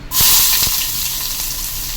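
Chopped onions hitting hot oil with fennel seeds in a pan while cooking a broken-egg curry, a sudden loud hiss that bursts up and then settles into a steady, close sizzle.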